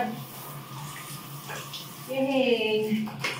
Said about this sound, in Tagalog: Bila gue cuma mau take shower.